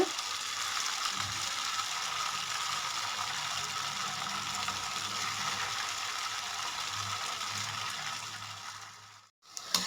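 Murukku rings frying in hot oil make a steady, dense bubbling sizzle that stays even and close throughout, then briefly drops away near the end.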